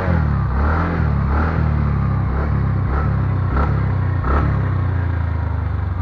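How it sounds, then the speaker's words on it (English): A TVS Ntorq scooter fitted with an SC Project aftermarket exhaust, idling with a close, steady, throbbing exhaust note broken by several short blips of the throttle, with no talk. "video on the exhaust note of Intoq."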